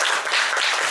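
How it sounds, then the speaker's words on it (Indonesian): A short burst of dense applause from a primary school class, many hands clapping at once, steady and fairly loud. "Tepuk tangan semuanya."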